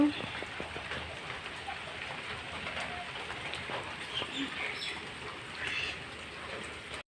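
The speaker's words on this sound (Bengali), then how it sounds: "তো এদিকে বৃষ্টি পড়ছে" Steady rain patters down across a broad hiss, with scattered drips and faint background sounds and no clear voices.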